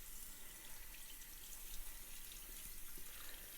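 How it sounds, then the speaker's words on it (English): Tap water runs steadily into a sink while soap is rinsed off a new box turtle, a continuous splashing hiss with no talking. "Just going to get all the soap off"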